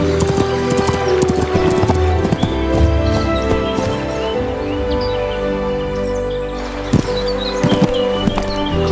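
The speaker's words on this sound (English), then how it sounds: "she mounted her horse and rode toward Verdel" A horse sets off with a rider, hooves clip-clopping in a steady rhythm close by, with a whinny and birds chirping in the background.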